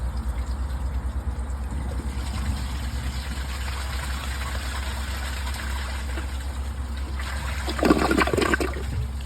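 A 2000s Mansfield Alto toilet on a mid tank flushes with a steady, close rush of draining water that swells into a louder gurgling surge near the end, with no voices.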